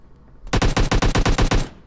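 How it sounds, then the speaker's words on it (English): Rapid automatic gunfire in PUBG Mobile, a loud close burst of about ten evenly spaced shots lasting just over a second, with no talk. "I hear gunshots."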